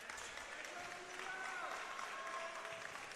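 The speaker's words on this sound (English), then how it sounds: "Junior Camacho comes out to some cheering from the crowd" Crowd at a basketball game between San Diego City and Palomar, a steady roar of cheering and clapping in a gym while a commentator talks over it.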